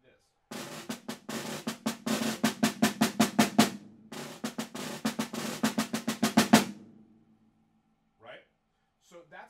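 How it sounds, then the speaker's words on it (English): A snare drum plays a rapid pattern of buzzed strokes mixed with sharp accented hits. It stops after several seconds, leaving near silence with a couple of faint sounds. "we should get buzz, buzz, accent, accent, like this."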